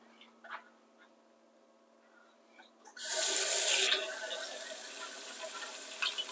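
Kitchen tap turned on to rinse freshly picked rose hips, starting quiet before water suddenly gushes loudly into the sink and settles into a steady, splashing stream.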